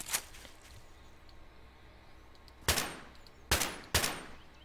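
SCAR rifle fire in the video game Garry's Mod: a shot at the start, then three loud, sharp single shots spaced about a second apart later on, each with a short decaying tail over a quiet background.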